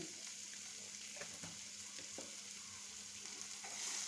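Turmeric powder, chili powder and panch phoron spices frying in a pan, a faint continuous sizzle with a few soft stirring scrapes, quiet and distant, no talking.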